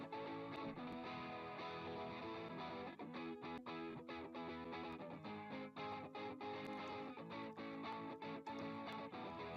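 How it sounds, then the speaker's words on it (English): An amplified guitar mix of a song, processed by a Softube tape plugin adding flanging, phasing and distortion, plays as a dense, sustained wash of tone with sharp rhythmic drum hits cutting through, quiet overall. "it adds some natural flanging and phasing and distortion"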